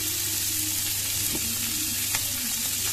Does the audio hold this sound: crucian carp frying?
yes